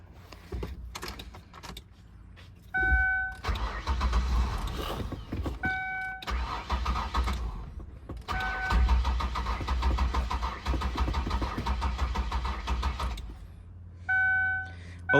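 A van with a bad-fuel problem cranks on its starter in several separate attempts, each a rough whirring burst lasting a few seconds, broken by short gaps and a brief electronic chime between tries.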